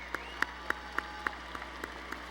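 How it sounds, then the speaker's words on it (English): An audience at a fall commencement ceremony applauds graduates. Faint, sparse claps sound at fairly regular intervals against a steady hum of background room noise, and no one speaks. "Let's applaud the College of Education and Health Professions graduates."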